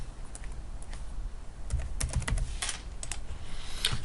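Rapid, close keystrokes clatter on a computer keyboard as a folder name is typed, a steady run of light clicks with a denser burst in the middle.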